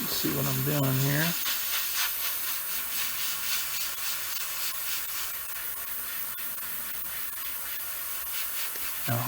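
Paint sprayed onto a Bandai 1/72 X-Wing Starfighter model kit, a steady close airy hiss running continuously after a brief voice at the start.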